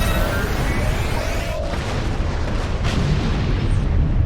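A starship explodes in the space combat video game Star Trek Online, a dense loud roaring blast and rumble that fills the whole moment, with faint electronic tones fading early on.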